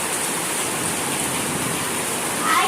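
Steady, dense rain falls without a break, a continuous close hiss beside a cattle shed where a polythene sheet is being hung to keep the rainwater out.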